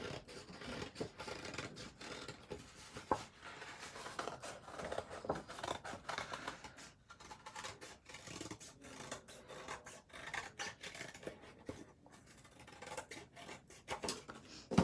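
Scissors snip through several stacked layers of paper for flower template pieces, a quiet close run of repeated rasping cuts and rubbing with no talk.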